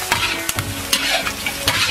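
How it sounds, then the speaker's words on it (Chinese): Sliced boiled beef hooves and windpipe are stir-fried in a wok to drive off moisture, with a loud close sizzle broken by repeated scraping strokes of a spatula. "炒掉水分。"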